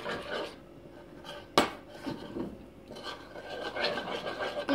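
Vaseline slime being stirred in a bowl, close scraping and rubbing strokes with a sharp clack near the start, then uneven gritty swirling that keeps going, no talk.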